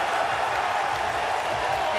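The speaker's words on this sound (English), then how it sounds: "That roar from the crowd is these fans knowing that Danny Wolf has waited hours tonight to hear his name called" Fans at the 2025 NBA Draft roar after the Brooklyn Nets pick Danny Wolf, a steady, dense crowd roar filling the arena throughout.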